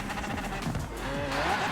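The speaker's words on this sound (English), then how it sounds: "Oh, that noise of V12." A BMW with a V12 engine in Forza Horizon 4 holds a steady, rich drone with rising harmonic whine. It sounds close and loud throughout, with a hint of tire noise.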